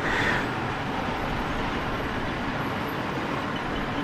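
Broadband road traffic noise on a busy street at midday in the Philippines, a steady, loud wash of engines and tyres with no clear individual vehicles standing out, continuous throughout.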